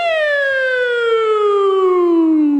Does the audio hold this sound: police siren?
yes